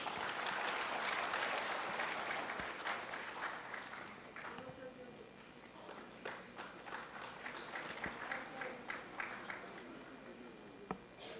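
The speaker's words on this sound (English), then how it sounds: "A big round of applause" An audience at a national medical conclave claps steadily, a dense wash of applause that tapers into scattered individual claps as an announcer's voice continues over it.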